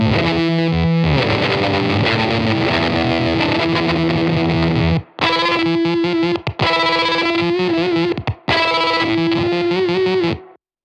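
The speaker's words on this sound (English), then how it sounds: "we are in the bit crusher mode. It's they call it chop. It's like bit crusher, tremolo." Guitar played through a Cosmodio Glitch Witch pedal in bit crusher chop mode, giving a loud, gritty, heavily distorted tone chopped into rapid stuttering pulses, with a few short drop-outs between phrases.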